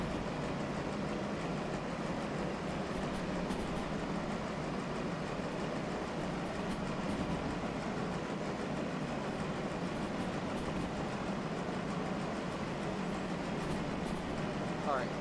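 A locomotive engine in the Derail Valley train game runs with a steady, dense mechanical rumble and rattle for the whole stretch, unchanging in level, while a person talks over it at times.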